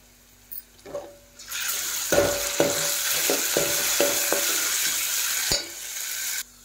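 Ginger garlic paste fries in a pan for a meal maker pulao. After a quiet start it breaks into a loud, continuous sizzle, and several scraping stirs sound close by with no speech.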